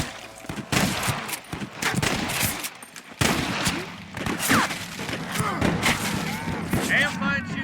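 Gunfire in Red Dead Redemption, a western shooting game, with rapid, overlapping shots in a loud, dense fusillade throughout, punctuated by heavier thuds and booms while voices talk in the mix.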